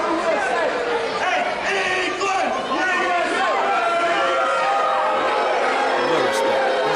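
A live wrestling-event crowd reacts to the Gordy Bulldogs with a continuous roar of shouting and chatter, loud and close, and voices are heard throughout.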